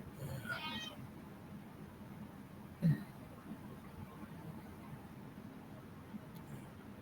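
A two-year-old pet cat gives a short meow near the start of a quiet indoor room, followed by a brief thump or knock, with no talking over it.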